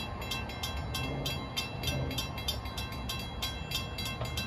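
Westbound Long Island Rail Road train of M9 cars from Ronkonkoma to Hicksville barreling through Bethpage station at dusk, a steady rumbling roar with rhythmic clicking rail joints, loud and close, no talk.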